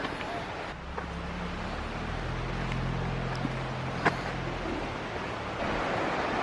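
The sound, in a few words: swift running river water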